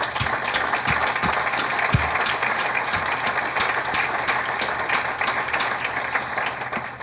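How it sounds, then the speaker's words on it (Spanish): Audience applause during a talk on current affairs in Mexico: sustained, dense clapping from a crowd at steady volume, with a few sharper claps standing out early on. "Aplauso a Ruiz González Pérez"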